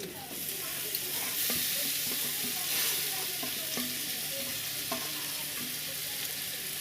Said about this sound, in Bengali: এবারে দিয়ে দেবো আমি সিদ্ধ মাছটা, ছাড়িয়ে নিয়েছি এইভাবে, নিয়ে এইভাবে আমি কড়ার মধ্যে দিয়ে দেবো মাছটাকে